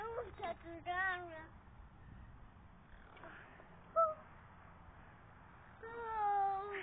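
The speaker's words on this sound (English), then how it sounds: "Oh, that is the bird." A bird gives several short harsh calls, a cluster at the start, one brief cry midway and a longer call at the end, moderately close over a faint noisy background without speech.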